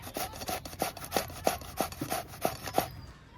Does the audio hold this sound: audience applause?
no